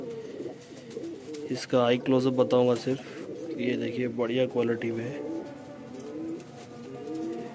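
A pigeon coos in low, soft, repeated calls while someone talks over it nearby at a pigeon keeper's loft; his voice dominates most of the clip, and the cooing stays faint beneath it.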